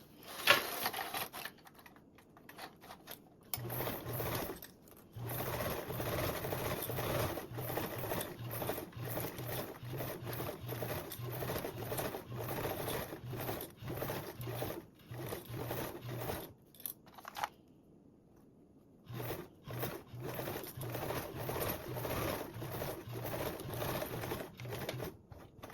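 Sewing machine stitching binding onto a convertible duffle bag with a 1/8 inch seam allowance, a steady rapid whirring run that pauses briefly near the start and again late, close and continuous with no talking.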